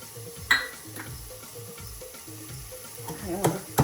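Soft, steady frying sizzle in a pan, punctuated by occasional clanks of a spoon stirring.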